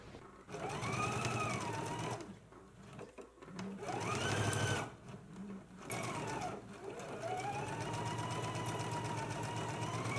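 A sewing machine stitches the darts of a jacket front, running in steady whirring bursts with short pauses between them, close and fairly loud throughout.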